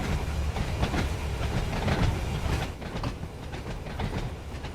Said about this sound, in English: Because this is our train in motion.